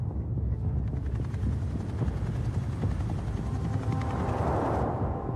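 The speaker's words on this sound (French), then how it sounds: "l'hélicoptère arrive au-dessus de la prison de Réau" A helicopter arrives over Réau prison in France, a dense, steady rotor drone with rapid chopping pulses that stays fairly loud and close the whole time.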